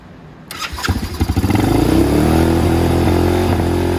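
A small engine cranks and catches, its pulses quickly merging into a loud, steady high-RPM drone with the choke on after carburetor cleaning, heard up close with no talking.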